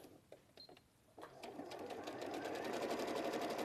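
A sewing machine runs steadily as it stitches a seam down the second side of a quilting piece along drawn quarter-inch lines, its rapid even needle chatter building after a few soft taps and holding close and alone.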